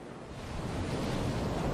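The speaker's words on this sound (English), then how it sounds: "Do you want to watch the sea with me for a while" Sea waves in the Halo video game, a steady broadband wash of surf with wind-like hiss, moderately loud and uninterrupted.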